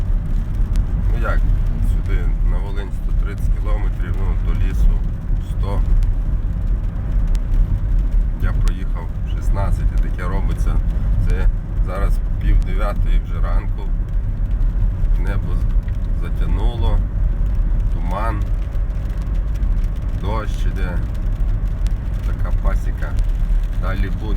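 Road traffic on a nearby highway beside an apiary on a cool day, a constant low rumble and whoosh of passing vehicles heard beneath ongoing close talking.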